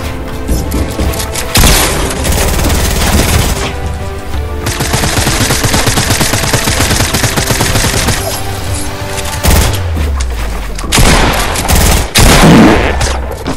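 Loud, sustained gunfire in a Fortnite match, with rapid bursts and heavy booming shots that continue almost without pause across the stretch.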